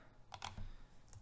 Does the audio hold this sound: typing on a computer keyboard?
yes